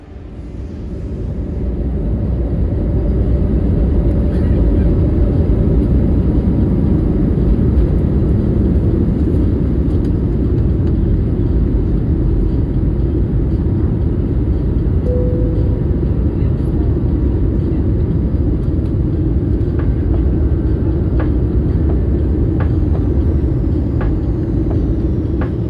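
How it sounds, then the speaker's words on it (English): Steady, loud cabin roar of an Air Astana Airbus A321neo climbing out of Dubai over the Arabian Gulf, a broad low rumble that swells in over the first seconds and then holds constant without a break. "After we departed Dubai on runway 30 right, we began our climb up over the Arabian Gulf."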